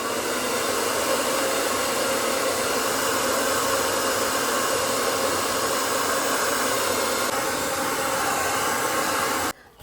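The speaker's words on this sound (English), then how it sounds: "now I want to go in with the blow dryer to dry this side up" A blow dryer on medium heat runs while drying hair for a sleek ponytail, a loud, steady whooshing roar close by that holds for nearly ten seconds and then cuts off abruptly.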